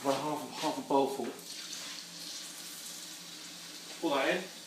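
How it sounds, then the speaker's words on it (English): Water poured into a pan of Indian dal, a soft rushing splash that settles into a faint fizz, close by, with brief voice-like sounds at the start and near the end. "Pour that in"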